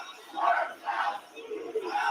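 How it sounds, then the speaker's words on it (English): Crowd at an AEW wrestling show chants in a steady rhythmic call, several loud repeated phrases rising and falling from a large arena audience. "Swerve's House chant right there"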